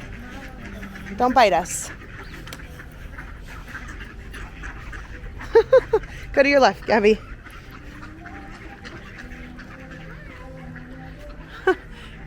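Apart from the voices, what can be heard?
ducks quacking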